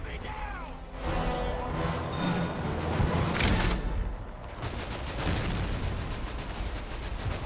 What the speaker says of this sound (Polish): te strzały, które przed chwilą widzieliśmy, to są właśnie prowadzone z tych czołgów